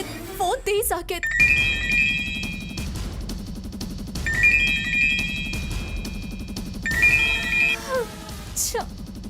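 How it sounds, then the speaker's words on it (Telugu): A phone rings out unanswered, heard from a caller's end while riding in an auto-rickshaw: a short melodic ringtone phrase repeats three times at even intervals over low rumbling background noise. "అయ్యో భగవంతుడా, ఫోన్ తీయడం లేదేంటి?"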